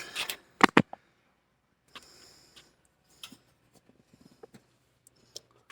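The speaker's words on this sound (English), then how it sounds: "Set that timer." Kitchen timer being set beside an oven preheated to 375 while cooking smothered pork loin chops: a few sharp close clicks, then scattered faint ticks and clicks in a quiet room.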